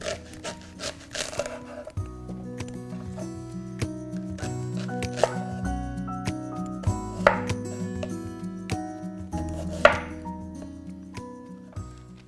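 Leek is chopped on a board for vegetarian pho broth, a handful of sharp, irregularly spaced knife strikes over steady background music.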